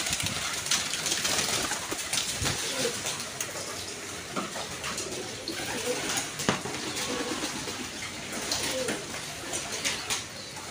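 Domestic pigeons of several Iraqi breeds coo softly and repeatedly amid a noisy, busy loft, with scattered bird calls and clatter throughout.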